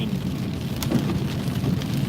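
Steady rain falls on a wet, rainy morning along a road, a continuous close hiss with scattered sharper drop taps and a faint low rumble underneath.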